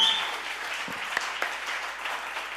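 Audience applause at a music festival DJ scratching workshop: a soft, even wash of many hands clapping at moderate distance, steady throughout with a few sharper claps standing out.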